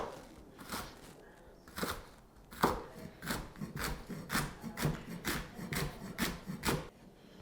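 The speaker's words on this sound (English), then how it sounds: "Just going to finely shred our red cabbage" A knife finely shredding red cabbage on a board for a Thai rice salad, a quiet, steady series of crisp chopping strokes with slight scraping, close and uneven in rhythm, nothing else heard.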